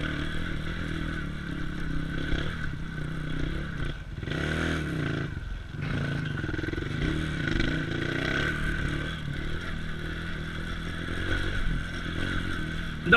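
A supermoto motorcycle is ridden along a highway with a steady, continuous engine drone and road noise, a slight dip midway, and no talking.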